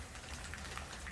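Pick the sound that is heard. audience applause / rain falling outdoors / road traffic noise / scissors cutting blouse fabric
rain falling outdoors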